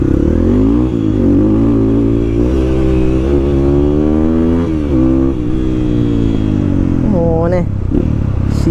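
A Hero XPulse motorcycle engine revs up and down repeatedly under throttle, loud and close, with rising and falling pitch sweeps and a sharp final rev burst near the end.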